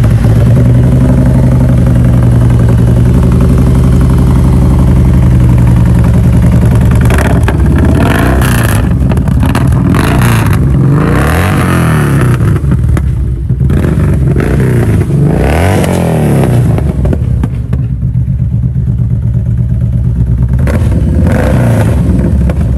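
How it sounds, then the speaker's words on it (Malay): A 2013 Kawasaki Vulcan 1007 Classic fitted with a Vance and Hines exhaust fires up and runs loud and close. It settles into a deep, steady idle, then blips the throttle through repeated sharp revs that rise and fall, with no voices. "kita cuba start tengok ini Kawasaki Vulcan 1007 Vance and Hans punya"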